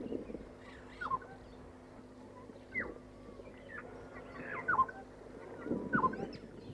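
A Burchell's starling mimics an African golden oriole with a handful of short, fluty whistled calls spaced a second or two apart, moderately near over a low background rumble.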